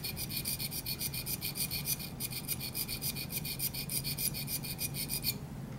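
A dental instrument is scraped against a sharpening stone in quick, even strokes, a rapid rhythmic rasping that runs steadily for several seconds before stopping, with no voices.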